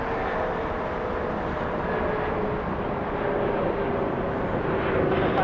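A Delta airliner takes off from runway 25 right at LAX, a steady, broad jet engine roar holding at constant loudness from a moderate distance, with no speech.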